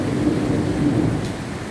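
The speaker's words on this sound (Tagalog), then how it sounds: "Tingnan niyo po, marinig yung kulog." Thunder rumbling through a rainstorm in the desert, a steady, loud low roll beneath constant rain noise, with no voices.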